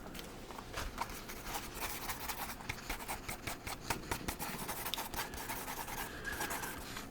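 Pencil sketching on paper with a steady stream of close, soft scratchy strokes and short rhythmic scribbles continuing throughout, no voice.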